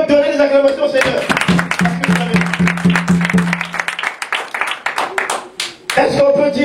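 A church congregation claps and cheers in scattered bursts, with sustained voices and cries mixed in; the clapping thins toward the end before louder voices return.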